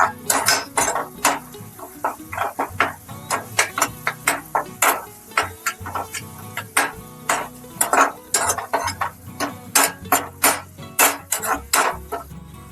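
Salted pasta water stirred in a pot gives a steady run of close, bright clinks and scrapes against the pot's sides, repeating in an uneven rhythm with no talking.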